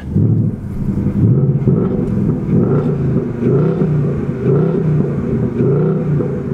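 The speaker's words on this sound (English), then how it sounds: "I want y'all to be able to hear the exhaust and all the engine sounds while we're driving it" A 2018 Ford Mustang GT engine revs while driving, its loud, deep exhaust burbling and swelling in waves, heard close with some wind buffeting.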